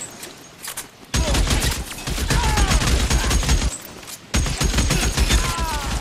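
Gunfire in the video game LA Noire during a shootout: loud, dense bursts of rapid shots and thuds that crackle almost continuously after a short quieter lead-in, with a brief lull midway.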